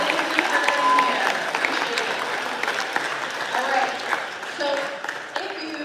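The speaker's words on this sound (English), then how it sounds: "how about a round of applause for our friends who did that?" A live audience at a Regis University event claps in a dense round of applause, fairly close and lively, with voices and a few cheers mixed through it.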